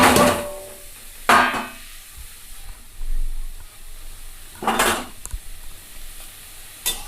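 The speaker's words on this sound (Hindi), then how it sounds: "इधर मैं कढ़ाई चढ़ा चुकी हूँ, और ये कढ़ाई जो है अब गर्म हो गया है, और इस कढ़ाई पे इसे बिना तेल का इसे दे देंगे" Raw mushrooms tossed and stirred in a hot kadai with no oil, several loud scraping stirring strokes spaced a few seconds apart over a quiet, faint sizzle.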